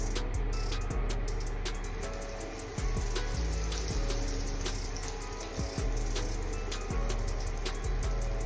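Tap water runs steadily into a kitchen sink while mushrooms are washed, making a loud, continuous splashing hiss close by, with a few small knocks and thumps as they are handled.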